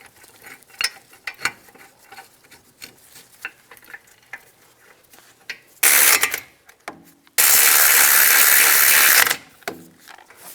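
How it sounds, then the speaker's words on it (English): A ratchet wrench tightens the brake caliper bolts on a 2010-2016 Cadillac SRX, with rapid close clicking bursts of the pawl, then two loud sustained rasping runs of ratcheting, the second longer, followed by a few more clicks. "Now we'll torque those to 81 foot-pounds."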